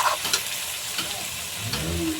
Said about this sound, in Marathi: मग त्याच्यानंतर आपण टाकू आपले 2 टमाटर, सोडू आपले टमाटर, त्याला पण आपण चांगल्याने हलवून घेऊ